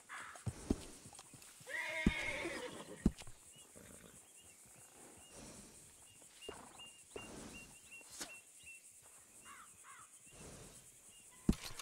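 A horse in the Red Dead Redemption 2 video game lets out a loud, clear whinny early on, followed by snorts and scattered clip-clop hoof steps against a quiet background.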